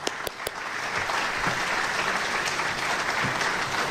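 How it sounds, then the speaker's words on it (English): A crowd at a regional summit in Mombasa, Kenya, breaks into applause after a few sharp early claps, the clapping swelling into a steady, loud wash of sound. "Please, let's give His Excellency another applause of a crowd."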